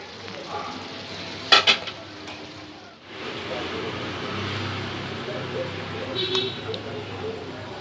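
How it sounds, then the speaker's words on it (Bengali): Thick jackfruit curry in yogurt (doi echor) is poured from the cooking pan into a serving dish. A few quick metallic clinks come first, then a continuous soft, wet scraping and sizzling close by. "এবার এটা আমি পাত্রে ঢেলে নেব।"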